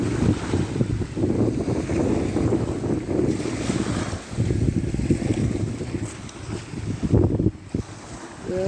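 Wind and waves of the Bering Sea at Barrow, Alaska, with steady, rough wind buffeting the microphone over the rolling wash of surf and water, loud and continuous without voices.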